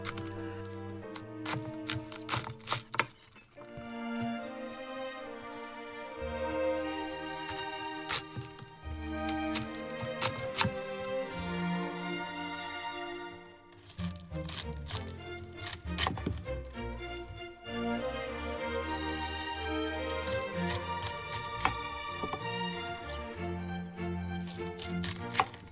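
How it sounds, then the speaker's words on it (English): A kitchen knife chops and shreds a cabbage on a board for sauerkraut, with rapid, steady cuts running almost continuously and loud and close, slowing in a few brief pauses. "I cut the cabbage in half, and then cut those halves into quarters."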